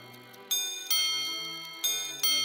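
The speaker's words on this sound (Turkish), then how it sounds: "çeyrekler için arka arkaya birer bas ve tiz gong" A minute repeater watch sounds its quarter chimes: two close pairs of quick low-then-high gong strikes, each pair ringing metallic and fading before the next.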